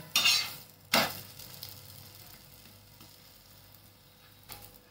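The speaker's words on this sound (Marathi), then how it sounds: "चांगला परतून घ्यायचा, शेकून घ्यायचा दोन्ही बाजूने चांगला लालसर" Paneer besan chilla browns in a pan, giving a faint, soft sizzle that is broken early by two sharp scraping clanks of a spatula turning it over and a lighter tap near the end.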